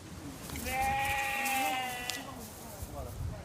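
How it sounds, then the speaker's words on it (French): Lambs on a heritage-breed conservation farm in the Drôme give loud, drawn-out, quavering bleats up close, with a person talking in the background. "Regardez, ce sont bien des agneaux, hein, pas des chèvres."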